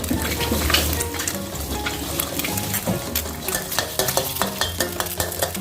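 Three eggs sizzle loudly in oil in a pan that was not preheated while a utensil scrapes and stirs them, with faint cutlery clinks as they are scrambled with Isan sausage.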